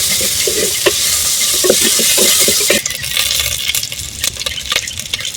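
Shallots fry in hot oil for a drumstick sambar, a loud steady sizzle with stirring clatters over the first half before the frying settles into a softer crackle.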